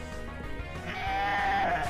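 A sheep Pokémon's cry in the video game Pokémon Uranium: a single short, loud, synthesized bleat that wavers upward in pitch before settling, heard alone against game background audio.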